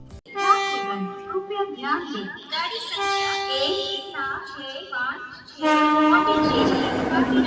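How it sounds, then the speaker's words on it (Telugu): A train horn sounds in several loud, sustained tones with brief pauses, heard from aboard the Pondicherry Circar Express. The rumble of the train grows louder near the end. "Finally, this is a train I am traveling on"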